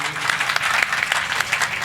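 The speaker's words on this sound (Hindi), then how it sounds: "एक जोरदार ताली बजाइए।" Audience applause breaks out at a devotional music gathering, a dense, steady patter of many hands clapping at close range, with scattered louder claps and no talk.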